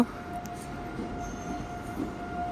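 A low, steady rumble of train noise at Ambala railway station with faint metallic tones, heard at a moderate distance and without talk.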